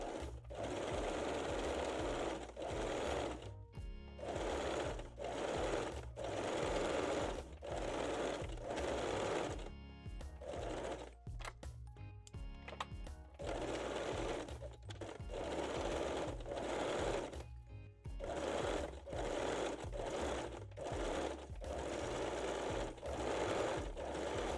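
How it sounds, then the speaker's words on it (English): A sewing machine zigzag-stitches fold-over elastic onto the leg openings of mesh-back Brazilian panties, running in long loud close bursts separated by short pauses and slower stitching stretches. "set your machine to zigzag stitch and finish both leg openings with fold over elastic"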